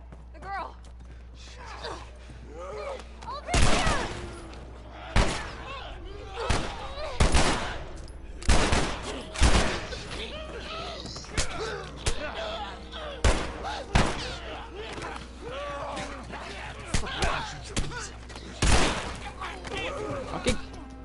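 Gunfire from The Last of Us video game cracks out in repeated loud shots at an irregular pace, each followed by a short decay, while a player's voice and game sounds carry on between the bursts.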